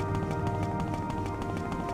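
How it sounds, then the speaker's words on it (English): Footsteps in Morrowind: a run of quick, regular thudding steps heard close and moderately loud, with a dull, hollow quality, set against a steady droning background with no speech. "I heard some footsteps"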